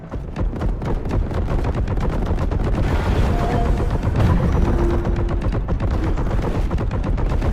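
Dense, relentless gunfire from the video game Boltgun rattles on in rapid machine-gun bursts, loud and close, with booming shots layered over a constant roar.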